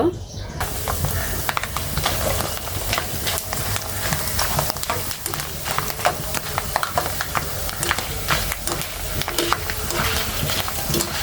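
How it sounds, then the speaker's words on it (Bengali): Potato papad chips fried in a kadai of hot oil give a steady, close sizzle with crackling bursts throughout, starting right after a brief quiet moment. "আমি তেলটা গরম দিয়ে দিছি আগেই তো গরম হয়ে গেছে আমি এখন পাপড়গুলো দিয়ে দিব"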